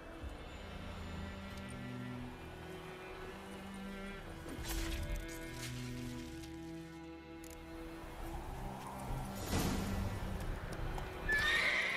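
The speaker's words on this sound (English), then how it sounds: "I'll ready our horses." Horses in The Witcher 3 video game neigh and whinny repeatedly while hooves clip-clop steadily, with the noise swelling near the end amid general game ambience.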